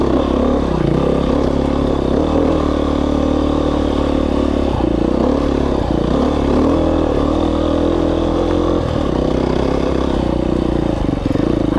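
A dirt bike's engine drones loud and steady while riding a singletrack trail in Idaho, with rumbling revs rising and falling and rattling clatter from the rough ground throughout.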